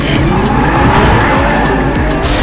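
A racing car in a fast street-racing video game with an upgraded engine revs hard with loud, wavering engine whine and screeching tires, continuous and up close without a break.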